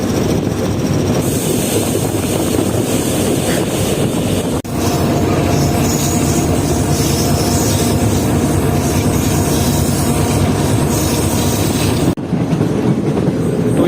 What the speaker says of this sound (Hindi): ये जो है बस ट्रेन अब अप्रोच कर रही है ट्रिग रोड जंक्शन रेलवे स्टेशन पर